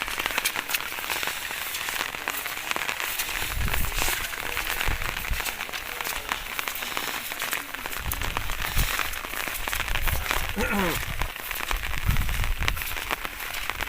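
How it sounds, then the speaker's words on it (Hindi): Heavy, continuous rain during river flooding on the Chenab at a fish farm, a steady broadband hiss of downpour with low rumbling thuds and no speech. "अपनी जीप पे आए हैं और बारिश हो रही है, लगातार बारिश हो रही है"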